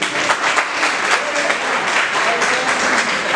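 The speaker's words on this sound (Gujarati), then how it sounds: "આ તમે બેઠા છો એટલે મેં એના માટે એકવાર જોરદાર તાળી પાડી દીધી" An audience at a youth development speech bursts into loud, dense clapping that holds steady throughout, with no talking over it.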